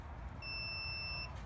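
A multimeter emits a single clear, steady continuity beep lasting under a second over a quiet background, while testing a Ryobi pull saw with no power.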